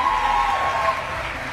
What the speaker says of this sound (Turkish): O zaman kuvvetli bir moral alkışı.